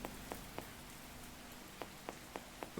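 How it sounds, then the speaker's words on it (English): Rain falls steadily in a horror video game set in dark woods near a lake, a soft wash of drops with sharp ticks at irregular intervals and a low hum beneath, fairly quiet and with no voices. "now it's raining blood"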